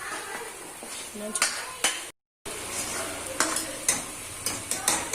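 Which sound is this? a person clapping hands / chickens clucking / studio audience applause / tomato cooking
tomato cooking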